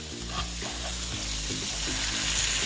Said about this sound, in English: Yes, let this side sear, y'all, sear.